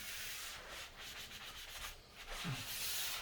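A surface being scuffed by hand with quick back-and-forth rubbing strokes, close up and fairly quiet, with no voices.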